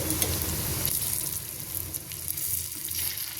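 Pea kachori made with rice flour deep-frying in hot oil, a continuous even bubbling hiss that holds steady throughout, close by and without speech.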